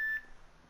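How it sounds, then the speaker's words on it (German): A single short electronic beep sounds in Minecraft, brief and thin, then fades into quiet background. "Das Piepsen kam im richtigen Moment."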